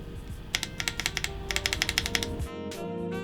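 Keys on an Idobao ID80 keyboard with band-aid-modded PCB and stabilizers clack in quick, close bursts of typing, a steady run of crisp strikes with no talking.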